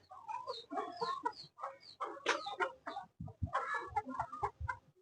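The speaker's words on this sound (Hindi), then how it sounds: "कुकड़ी और मुर्गा" Hens cluck in rapid bursts close by, with low throaty rooster-like clucks joining toward the end, no talking.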